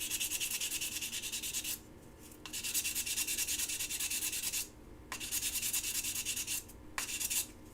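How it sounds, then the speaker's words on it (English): Close, raspy sanding strokes smoothing solder on a wood mandrel run in bursts of steady back-and-forth rubbing, broken by a few short pauses, fairly loud. "I'm just really sanding down the solder to make it nice and even."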